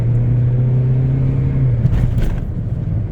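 A Peugeot 2008 (2020 or later) engine hums steadily from inside the car while accelerating, a low droning tone holding under road rumble with a slight rise in pitch.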